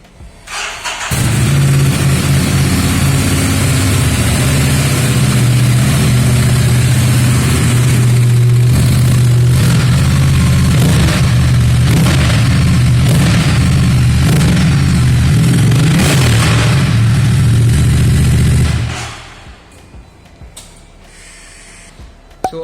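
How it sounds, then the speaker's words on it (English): A Ducati Multistrada 950 motorcycle engine starts and settles into a steady, rumbling idle close by, running loudly for several seconds before shutting off. "turning on the engine"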